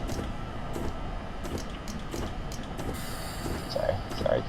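A commuter train rolls along in Train Simulator 2017 on a rainy North Jersey Coast run, giving a steady rumbling, clattering ride with creaks and air hisses while someone talks over it.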